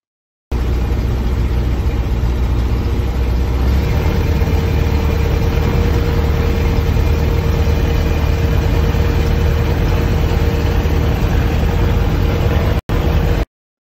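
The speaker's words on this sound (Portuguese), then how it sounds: "acelerar para 2500 RPM e manter nessa condição durante todo o aquecimento do motor" A Rotax 912 ULS aircraft engine runs steadily at raised warm-up revs, a loud, even, close droning roar that holds for about twelve seconds before cutting off abruptly.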